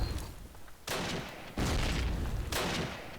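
Grenade blasts in Call of Duty 1 multiplayer on the railyard map, three sudden loud bursts of explosion and gunfire, each followed by a rumbling noisy decay.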